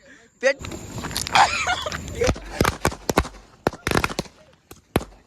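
Firecrackers set off at a birthday celebration, a string of sharp loud pops and cracks in irregular bursts, some clustered rapidly, with voices and crowd noise in between.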